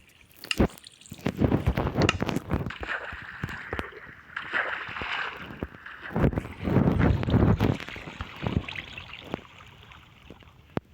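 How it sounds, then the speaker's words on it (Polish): Water in the Minecraft video game, heard as intermittent swishing and splashing bursts rising and falling, moderately faint, with no talk. "woda tu jest"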